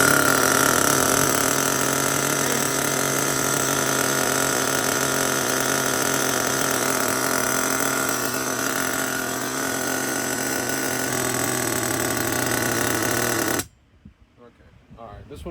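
A nitro RC car engine with pinched sleeves runs steadily after start-up, a loud, continuous buzzing drone at close range that cuts off abruptly near the end, leaving near silence with faint rustling.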